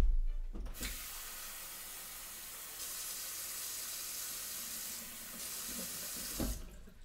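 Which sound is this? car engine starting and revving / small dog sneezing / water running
water running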